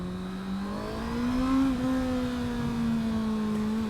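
A 2019 Honda CBR 650R inline-four motorcycle engine revs under throttle, its tone climbing steadily, peaking briefly and then holding a high, smooth whine. It runs loud and close with no talking.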